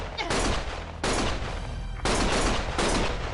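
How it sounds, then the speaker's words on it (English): Gunfire in Lost Judgment comes in several loud rapid bursts of shots, each volley cutting in sharply and lasting under a second, close and harsh. "Stop shooting!"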